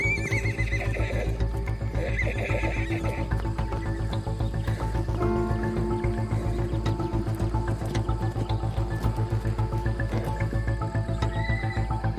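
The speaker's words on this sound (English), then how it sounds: "These wild horses, known locally as brumbies, don't just roam the landscapes of Australia." Wild Australian brumbies neigh and whinny loudly over a continuous rumble of galloping hooves, with repeated calls from a running herd and no voices throughout.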